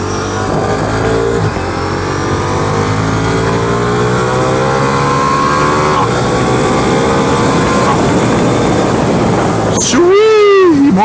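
A 2023 Ducati Diavel V4 motorcycle engine revs hard and loud through the gears toward freeway speed on Interstate 80, its rising note climbing, dropping at each shift, then climbing again, with a brief whistling whine near the end.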